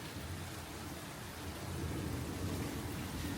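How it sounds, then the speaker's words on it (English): Loud storm in Croatia: steady heavy rain hissing over a deep, rolling thunder rumble that swells partway through, with no voices. "There's really, really loud thunder and really lots of lightning"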